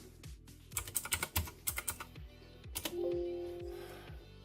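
Quick, irregular clusters of keystrokes on a computer keyboard as login details are entered, close and soft, followed by a short faint electronic beep.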